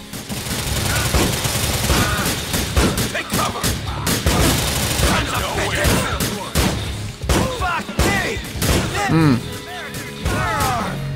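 Rapid bursts of gunfire from a weapon in GTA IV: The Lost and Damned, loud and dense, crackling through a busy mix of explosions, crashes and game action for the whole stretch.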